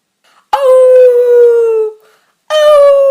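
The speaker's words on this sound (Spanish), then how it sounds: "De pronto apareció un lobo que aullaba." A wolf howls in a told children's story set in a forest: one long, loud, falling howl, a short pause, then a second howl that is cut off at the end.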